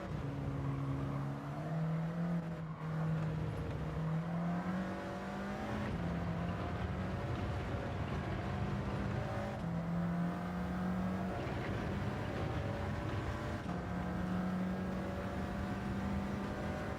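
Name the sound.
race car engine in a racing video game time trial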